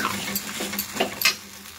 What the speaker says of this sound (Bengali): এবার যে ব্যাটারটা রেডি করেছি, সেই ব্যাটারটা এই তেলের মধ্যে আমি ঢেলে দেব।